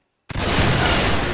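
A loud musket volley bursts out after a brief silence in a video game linked to the 24thGA company, one sharp crack that rolls straight into a sustained, dense roar of gunfire.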